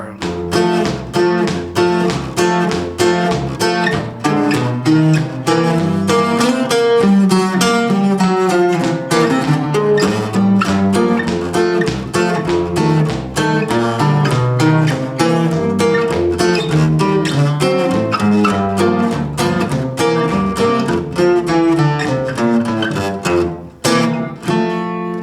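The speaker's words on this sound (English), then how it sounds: "It's called the bajo sexto or the bajo quinto. This has a 10-string guitar" A ten-string bajo quinto played in the old Tex-Mex style, with steady rhythmic strummed chords and plucked bass notes ringing continuously and loudly for the full stretch, without voices.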